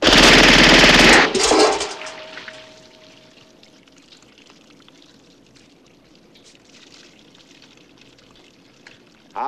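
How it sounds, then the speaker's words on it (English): A silenced machine gun fires one loud burst into a water-filled can, a dense rapid rattle lasting about a second and a half, then a long fading wash of splashing and dripping water before a sudden noise at the end. "Lon, this can here is filled with water. Go on, squeeze off a burst."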